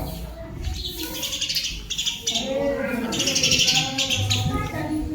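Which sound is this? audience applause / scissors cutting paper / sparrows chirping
sparrows chirping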